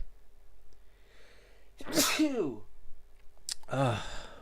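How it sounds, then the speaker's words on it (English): A person sneezes twice, each a sharp, loud burst after a brief inhale, with quiet breathing in between. "I have a sneeze coming."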